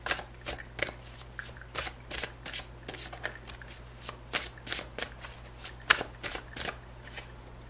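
Tarot cards riffled, shuffled and drawn from a deck in a rapid run of crisp, close papery flicks and snaps, with a steady low hum underneath.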